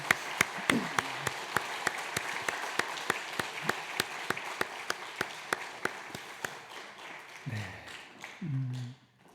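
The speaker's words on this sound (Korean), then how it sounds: "우리 들어가실 때 박수 다시 한번 부탁합니다" Church congregation applauding during a Sunday worship service, a steady crowd clap with a few sharp, rhythmic hand claps standing out, fading near the end as a couple of brief voices come in.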